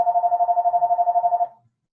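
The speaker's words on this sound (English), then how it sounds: "that's my phone ringing" A mobile phone ringtone sounds during an online medical lecture, a steady pulsing electronic tone of about sixteen quick beats over a second and a half that then cuts off, with no one talking over it.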